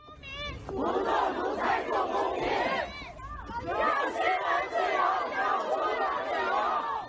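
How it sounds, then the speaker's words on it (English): A large crowd of protesters in Beijing shouting and chanting together, a dense, loud roar of many voices rising and falling in waves, with overlapping cries throughout. "crowds gather to demand freedom"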